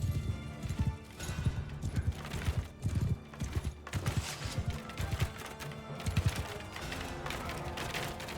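Galloping horse hooves of a mounted warlord in Mount & Blade II Bannerlord (Realm of Thrones mod), a rapid clip-clop rhythm over battle clatter and mechanical noise, close and continuous.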